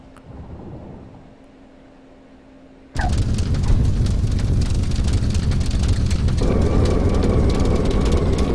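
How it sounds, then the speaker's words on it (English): Simulated F33A Bonanza with the landing gear lowered: after a quiet cockpit hum, a loud broadband rush of wind noise abruptly swells in and holds steady, roaring alongside the engine drone. "Hear the wind noise coming."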